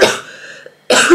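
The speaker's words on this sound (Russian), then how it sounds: "Начинаю кашлять." A woman with a cold during the first trimester of pregnancy coughs twice, close and loud, with a short pause between the harsh bursts.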